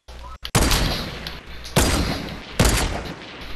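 Sniper rifle shots in the video game Fortnite: three loud, sharp blasts about a second apart, each with a long ringing tail, close and dominating.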